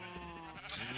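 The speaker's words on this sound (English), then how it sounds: "Oh, we have a lime sheep." Sheep bleating in a Minecraft-style survival game, a steady harmonic baa lasting about a second, close and clear with no talking over it.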